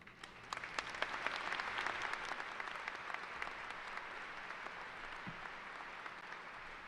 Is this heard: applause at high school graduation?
yes